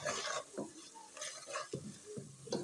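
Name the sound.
stirring red chili powder and turmeric into kadhi masala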